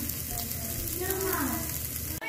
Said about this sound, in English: This is what I meant by heating up the meat in a frying pan prior to putting it in the oven to get toasted.